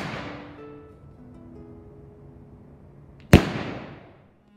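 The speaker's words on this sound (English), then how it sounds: "This is just a quick video on some exploding darts I made." A homemade impact-sensitive exploding dart fires on a .22 rimfire primer with a single sharp, loud crack that decays quickly. Before the blast there is only a quiet outdoor hum.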